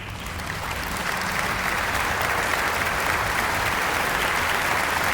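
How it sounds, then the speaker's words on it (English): Steady, dense applause from a sizable crowd, sustained at an even level throughout with no pauses. "let's give them a round of applause"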